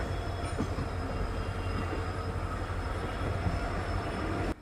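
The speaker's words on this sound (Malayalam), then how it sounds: "ആരക്കോണം ലോക്കോ ഷെഡിൻ്റെ ഒരു WP4 ലോക്കോയുമായി ഇതാ വരുന്നത് train number 16220 Tirupati Chamarajanagar express ആണ്" Train 16220, the Tirupati–Chamarajanagar Express hauled by an Arakkonam-shed WP4 locomotive, rolls in as a loud, steady rumble with continuous wheel and carriage noise close by.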